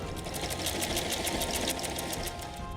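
A sewing machine stitches the underarm seams of a peasant-style costume garment, a fast, even needle rhythm running continuously up close with no talk.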